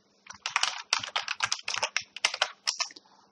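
Rapid typing on a computer keyboard, a dense run of close, crisp key clicks at an irregular quick pace, heard alone without speech.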